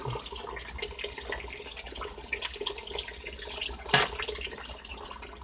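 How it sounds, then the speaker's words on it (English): A small steady stream of water pouring from a tap into a little bowl outdoors, a continuous close splashing hiss with one brief louder splash near the end, no talk. "So a small steady stream of water will give you 3 seconds."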